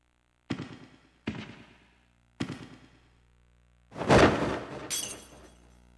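Glass shatters in a Yakuza video game. Three sharp impacts are followed by a louder, longer crash and a bright tinkling spray of breaking glass, close and loud with no voices.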